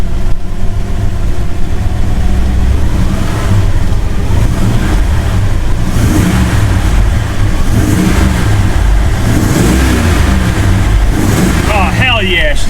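A 1969 Plymouth Road Runner with a 440 V8, started after more than 20 years sitting dormant, idles with a deep, loud, continuous rumble and revs up in surges, as people talk excitedly over it.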